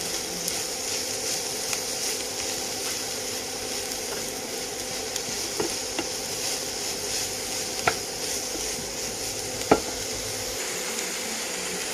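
Mushrooms frying in a pan for cutlets, giving a steady soft sizzle throughout with a few sharp clicks of a spoon stirring against the pan, close and without talk.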